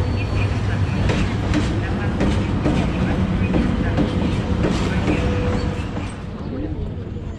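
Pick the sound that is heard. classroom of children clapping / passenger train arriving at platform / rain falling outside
passenger train arriving at platform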